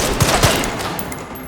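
Gunfire in the video game Resident Evil Requiem, a loud quick burst of two or three close shots followed by a rumbling, fading tail, with no talk over it.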